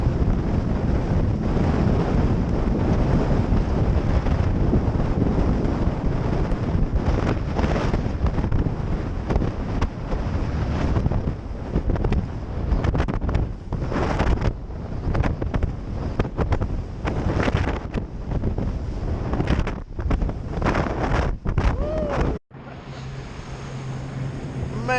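Stormy wind buffeting the microphone on open water while bass fishing from a boat, loud continuous roaring gusts with splashing waves, cutting off abruptly near the end to a quieter hum.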